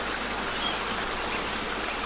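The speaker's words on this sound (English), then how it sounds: "The sound of water" Steady outdoor water flowing in a stream, a continuous even rushing wash with no pauses, heard alone and fairly close.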